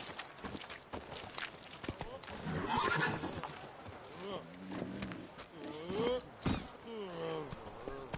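A horse in The Witcher video game neighs and gallops with quick clip-clop hoofbeats. A loud whinny rises midway, and voices talk over the hooves.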